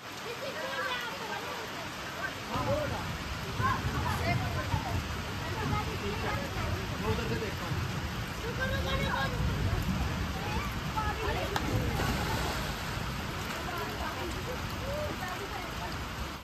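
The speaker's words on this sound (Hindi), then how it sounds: "पीछे देखो कितनी अच्छी बारिश हो रही है" Steady rain falls outdoors at a camping spot in Dehradun on a cold, cloudy day, a broad continuous hiss with someone talking over it for most of the clip.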